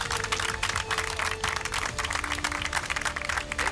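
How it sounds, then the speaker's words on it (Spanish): Crowd applause for competitors at a televised athletic competition event, a dense steady wash of clapping sustained throughout with a bright tonal hum or whistle running underneath. "Un aplauso para estas fieras"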